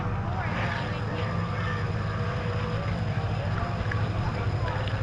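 A small racing boat with a 30 horsepower motor speeds past at a harbour boat race, its engine a steady continuous drone throughout, with a voice talking over it.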